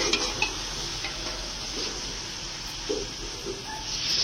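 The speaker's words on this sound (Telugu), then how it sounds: "ఒక్కసారి ఇలాగా కలుపుకోవాలి అంత మంచిగా" A pan of chicken haleem is stirred steadily over the heat, with a continuous sizzle and soft scraping and a few light knocks of the spoon against the metal.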